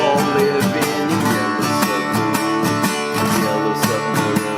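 Acoustic guitar strummed with bare fingers instead of a pick: full, ringing chords in a steady, even rhythm, close and moderately loud, with no voices.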